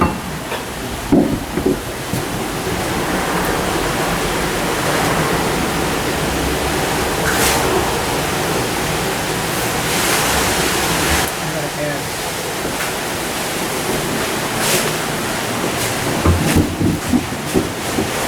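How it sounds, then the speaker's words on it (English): Water rushes down onto an 1860 mill water wheel after the gate is raised, a loud steady roar of falling water with occasional splashy surges, and a voice talks over it. "when the crank is turned, the gate raises and the water flows down to the wheel"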